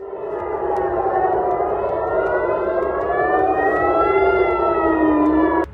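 Air raid warning sirens sound during a missile attack on cities in Israel, a loud, sustained, slowly rising and falling wail of several overlapping tones that cuts off sharply at the end.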